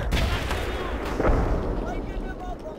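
Gunfire and heavy, booming weapon fire in the squad-tactics video game Full Spectrum Warrior, a dense continuous rumble of shots and blasts mixed with voices talking throughout.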